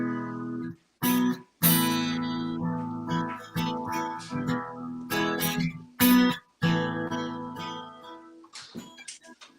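A band's recorded Christmas song, a rendition of Away in a Manger, plays as full, sustained music in several phrases separated by brief near-silent breaks, with no talk over it.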